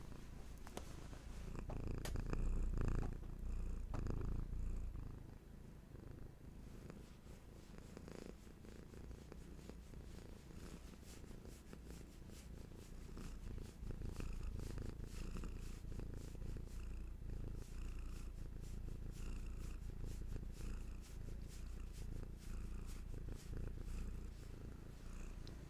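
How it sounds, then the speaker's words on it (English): Cat purring steadily and softly up close, a continuous low rumbling purr through the whole stretch with no talking. "And also we have the beautiful Hattie brought us some purrs."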